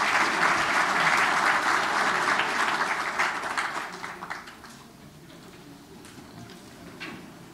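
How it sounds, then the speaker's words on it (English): A conference audience applauds after a talk, with dense, loud clapping that thins out over a few seconds and trails off into scattered claps. "One final round of applause,"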